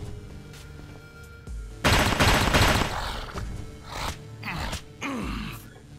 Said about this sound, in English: I'm just going to use my highest powered weapon against you